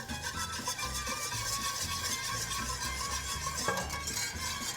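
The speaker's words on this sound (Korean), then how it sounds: "이제 우유를 넣어주면서 저어줄게요" Milk being whisked into a bubbling butter and flour roux in a pan, a steady close stirring and scraping with a faint sizzle throughout, no talking.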